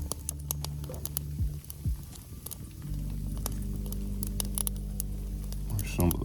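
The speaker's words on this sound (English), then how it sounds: "it's starting to freaking rain right now" Rain starting to fall outdoors at a woodland campsite, with scattered drops pattering sharply and irregularly on nearby surfaces over a low steady background rumble.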